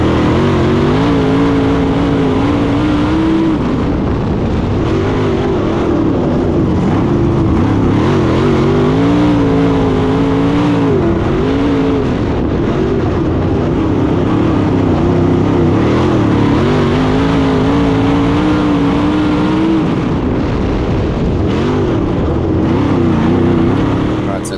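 A non-wing track race car roars steadily from onboard during a race, its engine rising and falling through repeated revving cycles, loud and continuous, with a voice talking over it.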